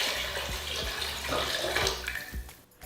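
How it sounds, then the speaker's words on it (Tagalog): Water poured into a cooking pot over pork for sinigang, a continuous splashing pour with a few soft knocks, close and steady, ending abruptly. "Ilalagay ko na yung tubig."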